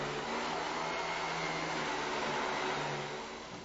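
Steady broadband motor whine of a vacuum cleaner running continuously at close range, with no voices, easing slightly at the end.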